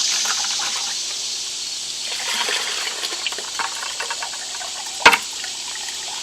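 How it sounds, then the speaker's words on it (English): Mortgage Lifter tomato pulp and seeds are stirred in liquid, giving soft, continuous wet sloshing and trickling with a brief sharper knock near the end. "So now I want to stir this up good so I get all of the seeds."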